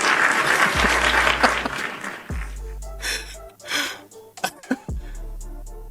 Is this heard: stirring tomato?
no